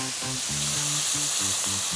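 Beef bacon frying in olive oil in a pan, a steady close sizzle and crackle with a low bubbling undertone, heard alone.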